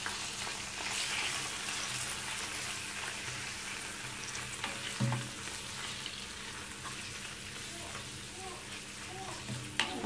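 Chicken gizzards fry in a pan with a steady, dense sizzle that runs the whole time, with a few faint knocks and stirring sounds under it.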